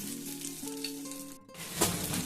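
An egg sizzles in a pan for a laccha paratha egg roll, with a steady close frying hiss, a brief gap, then a louder burst of crackle; faint tonal hum underneath.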